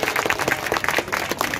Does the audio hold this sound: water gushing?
no